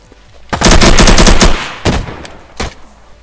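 Gunfire in the survival game Unturned: a loud, dense burst of rapid automatic shots for about a second, followed by two shorter separate shots, close and with no talk.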